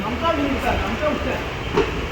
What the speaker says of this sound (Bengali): রাঙাপাড়ার থেকেও ট্রেন ছেড়ে দিল